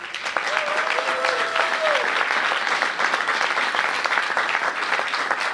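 Steady applause from the audience at a Washington DC bill signing ceremony for the Homeward DC Act of 2016, dense and sustained throughout, with a brief voice or whistle-like tone early on.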